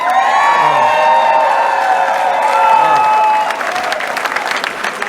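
A crowd at a Liberal political rally in Peterborough, loud and near, with sustained clapping, cheering and whoops alongside a droning tonal backing, thinning toward the end into scattered claps and shouts.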